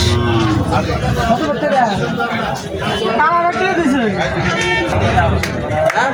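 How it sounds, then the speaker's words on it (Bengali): Cattle at a busy cattle market in Chauara, including Sahiwal cattle, moo repeatedly in drawn-out calls over constant crowd chatter and nearby voices. "আজকে চলে আসছে সুয়ারা গরু বাজার"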